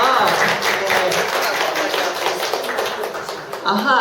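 A seated audience at a talk event applauds the speaker, a broad continuous patter of many hands lasting several seconds, with voices murmuring underneath.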